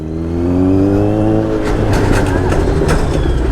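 A Kawasaki Z900 motorcycle on a night ride, its engine loud and close with a rising, revving tone that settles into a rough, steady roar, with no talking.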